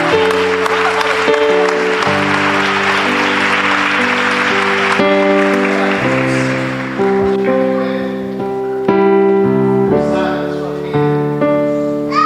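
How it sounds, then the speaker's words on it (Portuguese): An audience claps steadily through a Catholic worship gathering honoring the Virgin Mary, the dense applause filling the first half over sustained organ-like music before fading back beneath the melody. "Aplauda a Mãe de Deus neste mês de maio."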